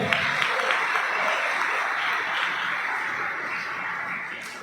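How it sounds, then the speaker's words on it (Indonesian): A congregation at an Easter revival service claps together in a loud, continuous wave that fills the hall and slowly fades toward the end. "Tepuk tangan buat nama itu."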